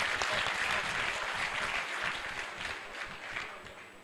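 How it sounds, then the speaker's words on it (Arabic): Sustained applause from a crowd inside a mosque during a Laylat al-Qadr celebration and Quran memorization awards, dense clapping continuing steadily for several seconds and tapering slightly toward the end. "لا تصفيق في المسجد"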